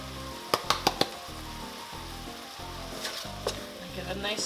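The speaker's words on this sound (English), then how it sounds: "Give it a nice stir and let it cook" Homemade tomato soup seasoned with garlic herb and dried oregano sizzles steadily in a pot, with a quick run of four sharp spoon clicks early on and a few softer scrapes later, close and unaccompanied by talk.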